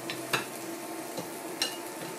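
A utensil scrapes browned crust from the bottom of a frying pan after pork chops, with orange juice added for sauce; soft sizzling throughout, punctuated by a few sharp scraping strokes.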